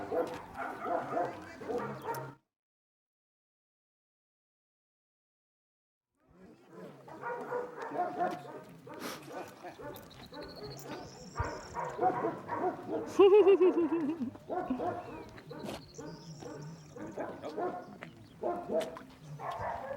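Two male dogs bark, yip and whimper on a walk, in close, excited irregular bursts, broken by a silent pause and mixed with people talking.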